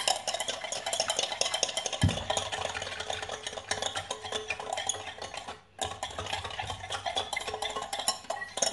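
A spoon works through a bowl of ingredients for Tunisian youyou, including brown sugar, making continuous scraping and clinking, with a sharper knock early on and a brief pause before the stirring resumes.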